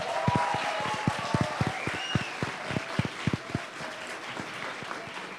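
Applause honours the finalist teams at the closing of a Brazilian young physicists' tournament final. Clapping from a modest audience sounds near, with distinct individual claps over a steady wash.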